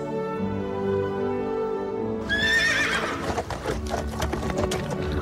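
A horse from the film Seabiscuit lets out a loud, close whinny that rises and shakes, followed by scuffling and hoof movement, after a low steady background hum.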